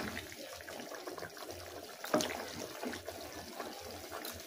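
A pot of rohu fish curry simmers, giving a faint, steady bubbling and gentle liquid burble throughout with one brief clink partway.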